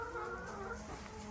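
Chickens cluck on an organic farm in Costa Rica: soft, overlapping bird chatter against steady background noise, close but not loud.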